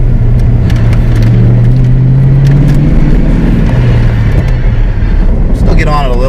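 Fox Body 5.0 Mustang notchback accelerating through a corner, a loud steady engine drone rising in pitch throughout, with wind and road rumble around it.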